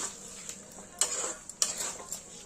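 Potatoes stirred in a pan with ghee and garam masala for Kashmiri dum aloo, soft sizzling with a few sharp scrapes and clinks of a spoon against the pan, quiet and close.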